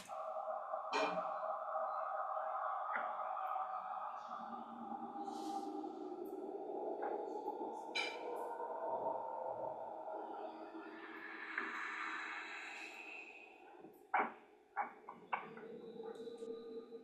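A sustained, dark ambient drone soundtrack with low rumbling layers and drifting tonal swells, joined by scattered sharp clicks and brief accents near the end, moderately quiet throughout.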